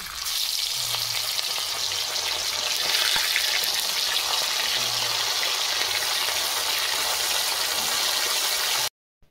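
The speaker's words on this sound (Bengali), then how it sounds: "একইভাবে বাকি মাছগুলো ভেজে নেব।" Loud, continuous sizzling of fish pieces frying in hot mustard oil for a Bengali lote fish curry, steady and close throughout, with a faint low hum beneath before it cuts off abruptly.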